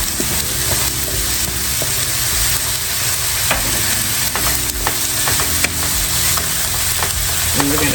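Chopped yellow onion and jalapenos frying in a pot for white lasagna soup, a steady close sizzle with occasional stirring scrapes and clicks throughout, no talking.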